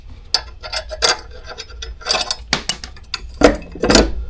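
Metallic clinks and ratcheting clicks come from a ratchet working on the blade bolt of a lawn mower, in short uneven bursts close by.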